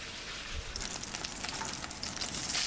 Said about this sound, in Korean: 후춧가루와 소주로 냄새 없애서 빠르게 볶아 건져놓고